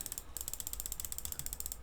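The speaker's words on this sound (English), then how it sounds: "sorry about the clicking noise" Rapid computer keyboard and mouse clicking during a PC game session, a dense, steady run of crisp ticks close to a sensitive microphone, quiet and with no talking.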